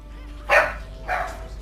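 A dog in the League of Legends video game gives two short barks about half a second apart, moderately loud over a low background hum.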